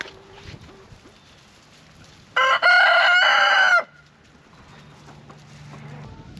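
A loud, drawn-out chicken call bursts out for about a second and a half on a farm, with faint clucking and rustling before and after.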